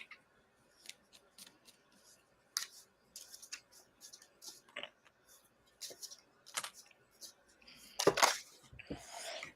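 Tarot cards being shuffled on a table, a quiet run of crisp irregular snaps and riffles ending in a louder flurry of card flicks, heard close with no talk.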